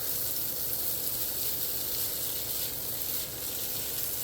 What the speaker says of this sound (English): we're just going to give this a quick stir